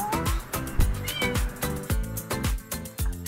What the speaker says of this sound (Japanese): あ、子猫。